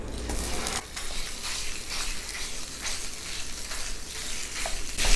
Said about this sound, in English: We're going to add our meat to the pan.